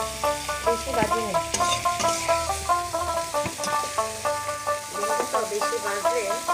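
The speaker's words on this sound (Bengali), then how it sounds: "ভেন্ডিগুলো কম কম করে ভেজেছি, ভাজা হয়ে গেছে" Sliced okra (bhindi) fries in a pan with a steady, close sizzle, stirred now and then, while tonal background music plays over it.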